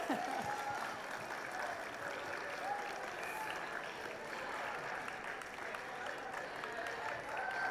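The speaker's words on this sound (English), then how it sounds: "Big round of applause for the teacher, everyone." A school audience at an edutainment stage applauds a teacher with sustained clapping from many people, with a crowd murmuring and voices mixed in throughout.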